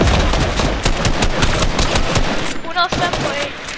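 Rapid automatic gunfire in Fortnite, dense bursts of loud close shots rattling continuously with a brief lull near the end, game effects mixed in.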